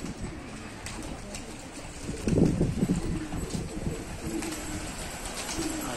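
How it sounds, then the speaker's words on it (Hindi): High flyer pigeons coo softly in low, throaty bursts, growing busier in the middle, over a steady background hum. "ये हाई फ्लायर कबूतर है।"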